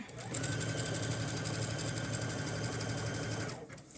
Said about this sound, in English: I've sewn about 1/3 of the way around the top layer of my skirt now